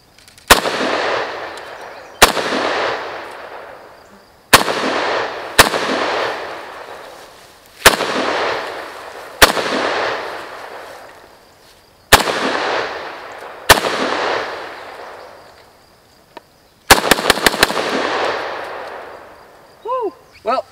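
A Norinco MAK-90, a Chinese-made AK-47 variant, fires at pop bottles about 10 to 15 yards away: sharp single gunshots, each followed by a decaying echo, spaced a couple of seconds apart, then a quick burst of several shots near the end.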